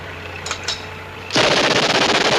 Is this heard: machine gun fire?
yes